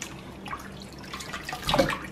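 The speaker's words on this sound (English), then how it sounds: "You just wash your fish." Water runs and splashes while a raw red snapper is washed by hand, soft uneven trickling close by that swells into a brief louder splash near the end.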